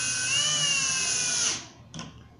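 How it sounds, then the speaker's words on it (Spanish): A power drill drives a screw into a melamine kitchen cabinet with a loud, steady high whine that winds down after about one and a half seconds, followed by a short second burst. "Con solo colocar 3 tornillos que unan la parte de atrás y la parte superior de nuestro mueble será"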